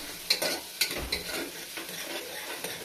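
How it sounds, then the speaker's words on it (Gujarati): Tomatoes stirred and fried in hot oil for Gujarati batata poha, a steady sizzle with several sharp scraping strokes of a spoon against the pan, close and alone. "તે ટમેટાને પણ તેલમાં એકદમ ફેરવવા પડશું, એટલે તેથી તે તેલમાં એકદમ ચડી જશે"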